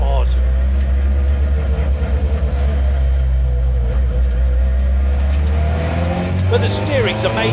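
A mid-engined Lancia Rally 037 Group B restomod engine drones loudly and steadily, with brief rises in revs, while someone talks over it from inside the car.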